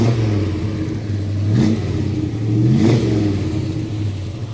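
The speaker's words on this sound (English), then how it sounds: "All right, Graham, rev the engine for me, sir." A 1967 Chevrolet Chevelle SS engine idles with a deep, loud rumble and is blipped twice, each rev rising sharply and falling back to idle, close by and without voices.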